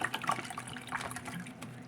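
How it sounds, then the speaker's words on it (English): Water poured into a home coffee maker's reservoir, a soft continuous splashing and trickling fill heard up close and fairly quiet, with no voices. "Now you pour that shit in."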